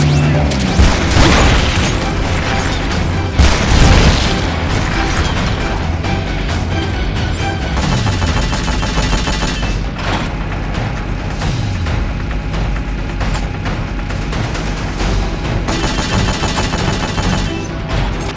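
Gunfire and explosions fill a supporting-fire barrage in Metal Gear Solid Peace Walker: dense, loud, continuous rattling with heavy booms near the start and the middle.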